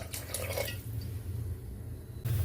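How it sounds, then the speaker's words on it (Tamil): Water pours steadily into a pot of semiya javvarisi payasam with a splashing, bubbling rush, then cuts off abruptly near the end. "இப்போது இன்னும் கொஞ்சம் தண்ணி கூட நம்ம ஆட் பண்ணிக்கலாம்."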